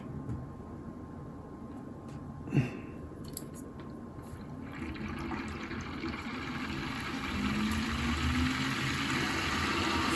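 A ThermalTake Pacific PR32-D5 pump in a PC water-cooling loop powers up, its steady whirring hum and sloshing water building from a quiet start, with a sharp knock near the beginning and a rising drone toward the end.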